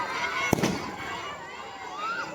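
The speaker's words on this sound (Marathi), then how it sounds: "पाहुण्यांच्या हस्तेचा फटाका फुटत आहे तुम्ही पाहू शकता" A single firecracker bursts with a sharp bang during an outdoor Diwali lamp festival at a residential school, set against steady crowd noise and a busy, noisy background.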